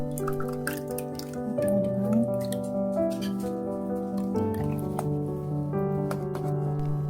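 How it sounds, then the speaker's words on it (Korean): Ready-made chicken bone broth, made with garlic, onion, green onion and Korean herbs, is poured undiluted into a pot. The liquid splashes and drips continuously at moderate loudness for several seconds. "물 없이 그대로 부어서 물에 희석할 필요 없이 오딱용 육수만 넣어주시면 됩니다"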